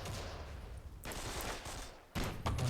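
Explosions of mortars and RPGs in the fantasy strategy game Myth II Soulblighter, a rumbling cluster of blasts followed by two sharper bursts near the end, moderately loud with no talk.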